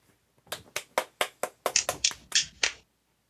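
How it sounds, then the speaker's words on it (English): A run of about a dozen sharp, close hand claps in quick uneven rhythm, fairly quiet, with no talking over them. "Here's a clap."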